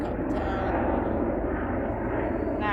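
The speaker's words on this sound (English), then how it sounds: "Helicopter." A helicopter passing overhead outdoors during a yoga session, a continuous rumbling drone of rotor and engine noise that holds steady and fairly loud throughout.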